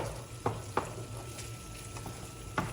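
Garlic is stirred into ground turkey and sausage meatballs browning in a pan, a soft steady sizzle punctuated by a few sharp scraping clicks of the utensil against the pan.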